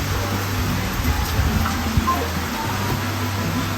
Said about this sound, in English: The rain are falling now,